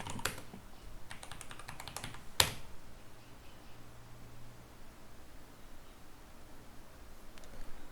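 Typing a terminal command on a computer keyboard: a quick burst of close key clicks, a single sharper keystroke, then quiet hiss with a faint low hum.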